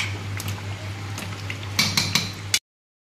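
Chicken curry masala sautéing in a pan, a steady sizzle under a low hum with clanking spatula strikes against the metal, bunching into several sharp knocks near the end before cutting off.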